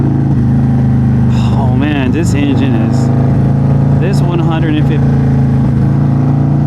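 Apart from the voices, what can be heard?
motorcycle engine revving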